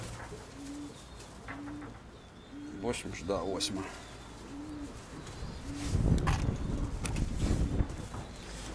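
A steel-coloured white-tailed pigeon from a breeding loft coos in a slow, steady run of soft, low repeated calls, close by, while someone talks over it.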